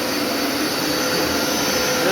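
A Hoover Power Scrub XL carpet cleaner runs with a loud, steady whirring motor drone that holds constant throughout, with no talk over it.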